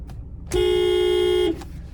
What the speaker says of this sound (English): There's the horn there.